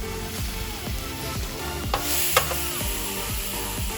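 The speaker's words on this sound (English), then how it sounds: "we're just kind of caramelizing the tofu. Again, you don't want it to sit for too long or else you're gonna burn it. So just keep flipping it." Tofu caramelizes in a hot frying pan with a continuous sizzle. Repeated scraping strokes come as it is stirred and flipped, close and fairly loud, with no talk.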